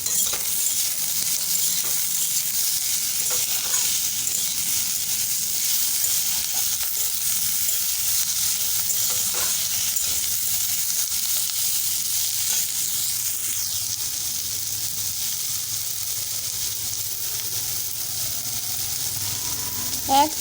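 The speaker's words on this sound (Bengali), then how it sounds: "আলু পেঁয়াজ ভালোভাবে ভাজা হয়ে গেছে" Potatoes and onions fry in a pan, giving a continuous soft sizzle with occasional faint scrapes and clinks from stirring, steady and even throughout with no talking.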